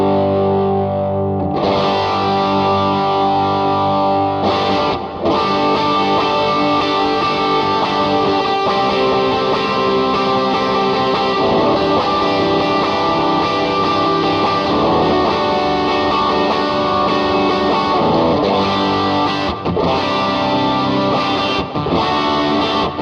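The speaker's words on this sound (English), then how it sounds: "let's gain up the Jan Ray." Electric guitar driven through a Jan Ray overdrive pedal with the gain turned up, a thick, sustained distorted tone strummed continuously and loud for over twenty seconds, played alone without talk.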